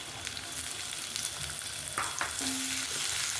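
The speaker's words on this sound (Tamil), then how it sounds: "வெங்காயம் கொஞ்சம் நிறம் மாற வரைக்கும் வதக்கிக்கலாங்க" Sliced onion sautéing in hot oil gives a steady, close, moderate sizzle, with a few brief scrapes and a short clink as it is stirred.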